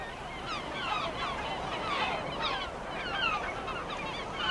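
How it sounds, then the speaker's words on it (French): Colony of great black-backed gulls, herring gulls and double-crested cormorants on a rocky islet, a dense chorus of overlapping squawking calls that continues throughout at moderate distance, with no talking. "j'ai trouvé sur un îlot rocheux une colonie d'oiseaux qui a piqué ma curiosité"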